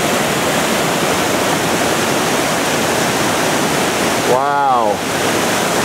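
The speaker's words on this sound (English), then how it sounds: "So many magnificent waterfalls, eh?" A waterfall roars as a steady, loud broadband wash through the whole span, with a man's brief exclamation near the end over the rush.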